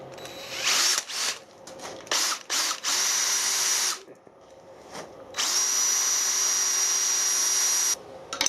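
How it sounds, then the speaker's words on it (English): An electric drill drilling a 5mm hole in metal whines in several short bursts, then runs in longer stretches with a rising, steady pitch, close by with quiet gaps between. "I'll drill that 5mm and tap it quarter"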